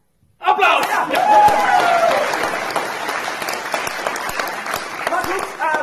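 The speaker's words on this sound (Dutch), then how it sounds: "Applaus!" An audience at a film gala premiere breaks into sudden, loud applause that stays dense and steady, with cheering voices and chatter mixed in.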